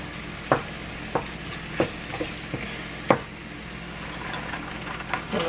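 Mushrooms brown in a pan over low heat, a soft continuous sizzle punctuated by a handful of sharp taps and scrapes from a utensil at irregular intervals, close up with no voices.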